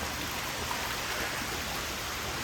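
Water moving in a koi pond, a steady broadband rushing and splashing that stays even and fairly loud throughout, with no voices.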